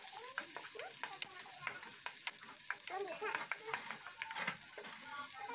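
Eggs and sliced onions frying in a pan are stirred with a utensil, giving a soft continuous sizzle punctuated by repeated scraping and tapping strokes, close and fairly quiet, with faint voices in the background.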